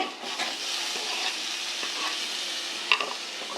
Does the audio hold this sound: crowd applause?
no